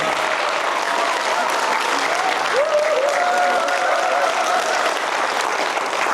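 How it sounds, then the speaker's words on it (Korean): An audience at a town-hall dialogue with Ulsan citizens in Ulju-gun applauds the newly elected Ulsan mayor. The applause is steady and sustained, a dense wash of clapping throughout, with a faint tonal voice-like sound drifting through the middle. "큰 박수 한번 부탁드리겠습니다"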